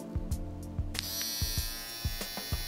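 A cheap electric hair clipper, bought for two euros, is switched on and runs with a steady close-up buzz, broken by a series of short clicks and knocks as it is handled. No one speaks.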